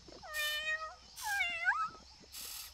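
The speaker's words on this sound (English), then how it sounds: "I do, but that guy's speaking cat." A cartoon dinosaur stuck in a swamp meows like a cat: two clear, drawn-out meows in quick succession, then the start of a third, fairly close and with no talk over them.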